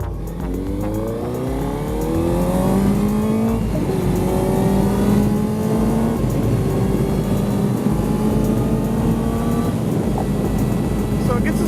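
A 2017 Benelli TNT600 motorcycle engine revs up hard with rising pitch through several gear shifts, loud and close, building speed steadily over the whole stretch.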